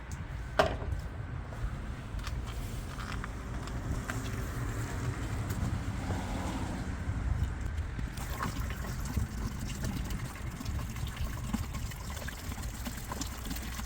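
Water runs steadily into the tank of a 2021 Toro Spraymaster sprayer, a continuous rushing trickle under faint outdoor background noise, shifting slightly in tone about halfway through.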